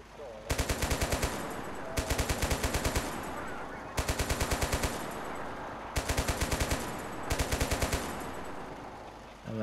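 Video-game machine gun fire in a fantasy battle with rocket launchers, coming in five loud rapid bursts of about a second each over a constant dense battle din, with a little speech underneath.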